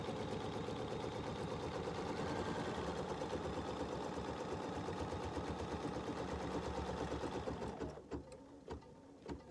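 A BERNINA embroidery machine runs steadily through a second stitching pass on fabric, a continuous rapid mechanical whir with fine needle rhythm, close and loud, stopping near the end into a few isolated clicks.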